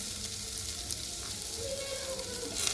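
Lentils tipped into a hot pan of onion and garlic, sizzling and frying steadily at close range, with a brief louder crackle near the end.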